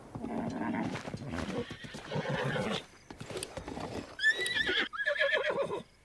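A horse in Zelda: Breath of the Wild whinnies loudly in rising, shrill bursts, with the clatter of hooves and game sounds around it and no talking.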